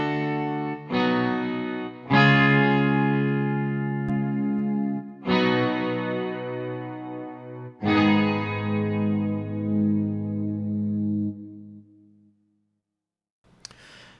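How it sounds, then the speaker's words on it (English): Stereo electric guitar chords without chorus strum one after another, five ringing hits with slight crunch, each sustaining before the next, then fading to silence. "what the stereo guitar chords sound like without chorus"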